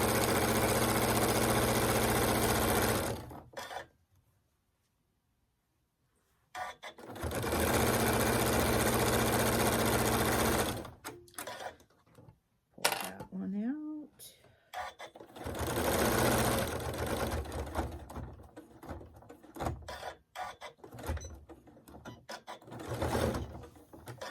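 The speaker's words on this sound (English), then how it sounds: "And then I'm just going to continue to sew down." A sewing machine stitches a quilted fabric hot pad in loud, fast mechanical runs, broken by a silent pause and shorter irregular bursts as the fabric is repositioned.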